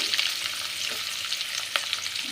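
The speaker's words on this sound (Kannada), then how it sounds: "ಚೆನ್ನಾಗಿ ಒಂದು ಸರಿ ಫ್ರೈ ಮಾಡ್ಕೊಳ್ಳಿ" Green chillies and chopped onion with curry leaves frying in a pan, a close, steady hiss of sizzling oil with faint stirring scrapes throughout.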